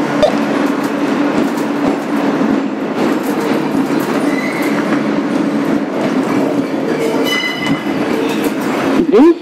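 A 2008 Kawasaki R-160B subway car, number 8842, running as an N local on the BMT Sea Beach line, rumbles loudly with clattering wheels and a steady motor hum, ending in a rising squeal near the end.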